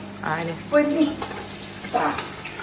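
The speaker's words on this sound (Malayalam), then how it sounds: "വീണ്ടും വീണ്ടും നല്ല ഹൈ ഫ്ലെയിമിലാക്കിട്ട് മൊരിയിച്ചിട്ട് എടുക്കാല്ലേ" Chicken fries in hot oil over a high flame with a bubbling, crackling sizzle that surges in bursts while people talk close by.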